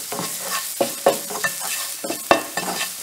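A spoon stirs masala frying in a pan for chicken rolls, with a soft sizzle under irregular scraping strokes and a few sharper clinks against the pan, close by and with no talking.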